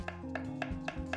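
A knife chops potatoes and onions on a cutting board in a home kitchen, giving five evenly spaced, crisp knocks at a steady rhythm, close and clear over a low background hum.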